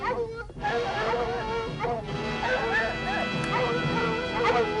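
Several small dogs barking, yipping and whimpering in an old 1950s Viking movie soundtrack, continuous excited yaps layered over one another, loud and close, mixed with voices talking.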